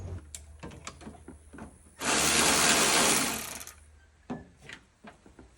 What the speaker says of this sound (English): I'm going to need an extension to get in there with this Milwaukee electronic ratchet.